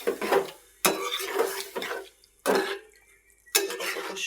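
Mixed fish and prawns are stirred in a cooking pan for a bhuna curry: a spoon clanks and scrapes against the metal in four distinct bursts separated by quieter pauses.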